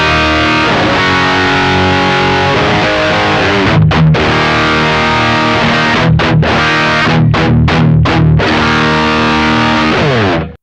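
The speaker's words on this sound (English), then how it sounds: "We instantly have just sort of a generic guitar cabinet." A loud, distorted electric guitar played through a simulated generic guitar cabinet on a Fractal amp modeler, with dense sustained chords broken by several short choppy gaps in the second half.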